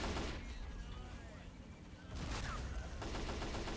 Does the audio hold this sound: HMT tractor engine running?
no